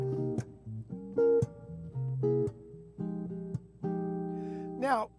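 Jazz guitar comps chords for Blue Bossa, short rhythmic chord stabs with gaps between them, clean and close, ending on a sliding bent note.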